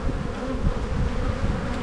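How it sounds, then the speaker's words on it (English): Dense swarm of bees buzzing loudly at a crowded spring beehive, a close, continuous droning hum with no breaks. "There is a lot of bees in this hive"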